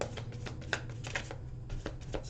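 Tarot cards are shuffled by hand in a quiet room, giving a soft, quick run of riffling flutters and light taps that come close together and stay faint throughout.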